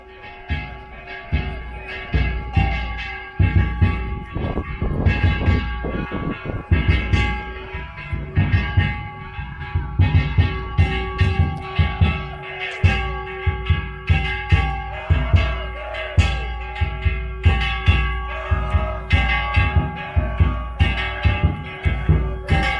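Bells clanging in quick repeated bursts at a Danjiri festival procession during Golden Week, loud and close, with a dense metallic ringing over crowd noise and rhythmic percussion that keeps going throughout.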